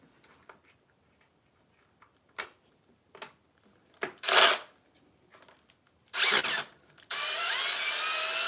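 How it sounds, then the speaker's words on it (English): A new cordless power drill buzzes in short bursts, a couple of brief whirs separated by quiet ticking and handling noises, followed by a longer steady run at the end, close by. "Loving the new drill though. Makes things a lot quicker."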